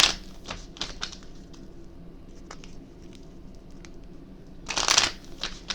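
Small spiritual angelic oracle cards shuffled by hand in a few crisp riffling bursts, the loudest flurry near the end, with quieter flicks and taps in between and no talking.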